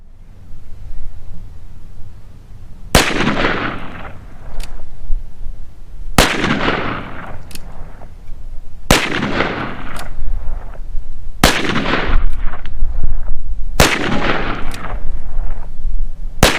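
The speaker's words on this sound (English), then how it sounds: "let's head out to the range and fire a few rounds." A Ruger Blackhawk Convertible revolver fires 10mm rounds at an outdoor range: five loud, sharp shots spaced roughly two and a half seconds apart, each followed by a ringing, decaying tail.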